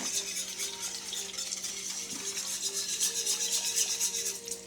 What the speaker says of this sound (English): just keep stirring every so often